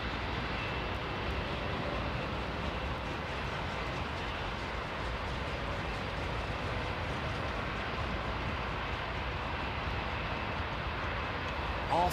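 A jet airliner with hybrid Pratt & Whitney 1100G engines at Heathrow, near runway 09R, produces a steady, loud broadband roar that holds evenly for the whole stretch with no voices over it.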